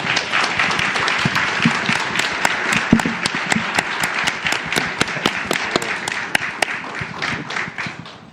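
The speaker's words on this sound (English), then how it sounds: "Let's give a round of applause." A round of applause from an audience at a live regenerative-agriculture event in NYC, dense steady clapping with sharp individual claps standing out, sustained loudly throughout before tapering slightly at the end.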